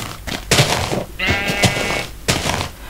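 A sheep in Minecraft gives one clear, wavering bleat near the middle. It is surrounded by several sharp clicky thumps from the game, and everything sounds close and fairly loud.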